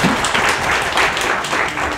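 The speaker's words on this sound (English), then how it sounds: "Let's give him a round of applause." Congregation applauding after a prayer at a church service, a steady wash of many hands clapping together at moderate loudness, sustained for about two seconds.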